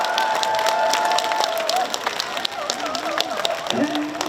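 Festival crowd at a Gimhae beef festival applauding and cheering for a singer, a dense steady wash of clapping mixed with shouts and crowd noise throughout, with some voices rising above.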